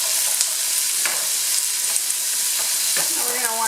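Onions sizzle loudly in leftover sausage oil in a soup pot, a dense close crackle with occasional stirring scrapes and a faint clink near the end.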